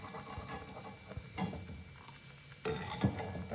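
Onion karivadagam, a Chettinad sun-dried onion vadagam, frying in hot oil, a steady close sizzle broken by stirring clatter and a few sharper knocks near the end, with no voices.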